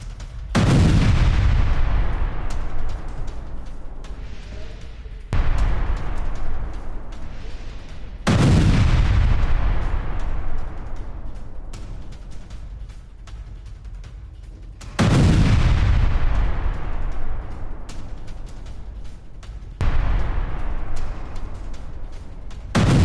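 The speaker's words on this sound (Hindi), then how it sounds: "बेलगोरोड के रिहायशी इमारत से टकराया सुसाइड ड्रोन" Several heavy booming blasts from suicide drone strikes on residential buildings in Belgorod, each a sharp loud impact with a long rumbling decay, spaced several seconds apart.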